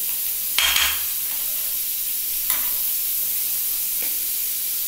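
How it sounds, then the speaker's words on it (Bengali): Pav bhaji fries in butter in a pan over low gas, giving a steady soft sizzle broken by a few brief louder scrapes and hisses as it is stirred. "এবার আমি বাটার দিয়ে পাও ভাজিটাকে ছেঁকে নিচ্ছি।"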